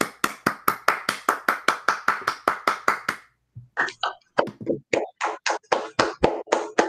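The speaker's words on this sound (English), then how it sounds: "let's give Simon a round of applause before we end the meeting" Applause at the end of a guest mathematics lecture meeting, a few close hands clapping in quick rhythmic bursts, a brief pause, then more scattered claps; no speech over it.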